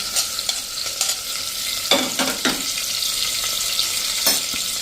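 Chopped garlic, chili and grated ginger sizzle in a hot pan, a steady close frying hiss broken by a few brief stirring scrapes.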